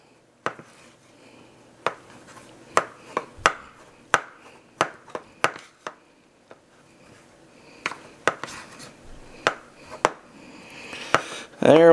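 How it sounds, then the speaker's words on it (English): A spoon knocks against a bowl as Bisquick dumpling dough is kneaded, giving a series of sharp, irregular taps and clacks close by, spaced about half a second to a second apart over quiet background. "I'm using my spoon to do the kneading."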